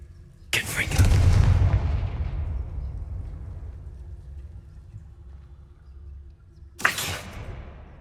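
In the Hogwarts Legacy video game, a Confringo spell lands as a loud, booming blast that rumbles away over several seconds, with a second sharp burst following near the end.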